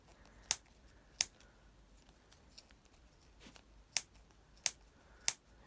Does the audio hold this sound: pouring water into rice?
no